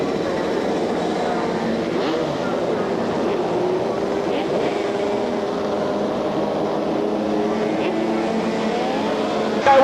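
Small F500 race cars battling for position around a track at an Australian race meeting in Cairns, Queensland, heard as a steady, continuous engine drone from a distance with crowd and ambient noise mixed in.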